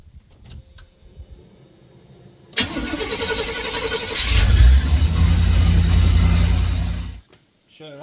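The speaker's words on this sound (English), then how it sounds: "We're gonna go ahead and fire it up and check for leaks" A Chevy Squarebody truck's engine cranks and catches after a power steering pump replacement, rising into a loud, rough idle that runs a few seconds before being shut off, heard close up after a quiet lead-in.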